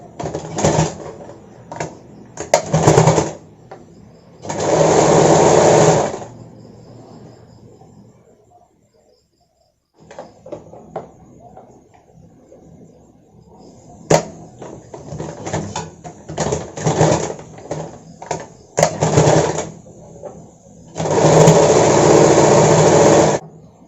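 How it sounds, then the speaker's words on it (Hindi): A sewing machine stitches a size-30 blouse in loud bursts of running, separated by pauses and quieter handling noises, with the longest runs near the start and end. "मैं यहाँ पर मशीन से सिलाई कर लूंगी"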